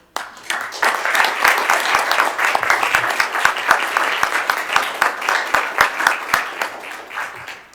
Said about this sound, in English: we owe you a salute and a thank you applause for a good job well done